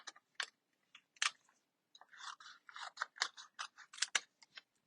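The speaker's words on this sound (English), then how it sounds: "Now I'm going to grab my scissors, and we're going to do some fussy cutting." Scissors fussy cut around stamped paper pieces for a handmade cow-themed card, making a quiet, close series of crisp snips and clicks in irregular quick bursts with short pauses.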